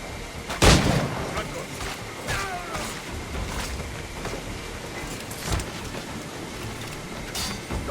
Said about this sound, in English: No man's immune to a pistol shot